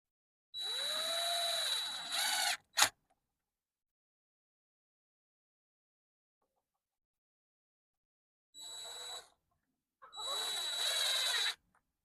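A power drill pre-drills a hole in three separate bursts: a whirring motor that spins up in pitch, runs steadily for a couple of seconds, stops with a sharp click, then returns in two later runs after silence.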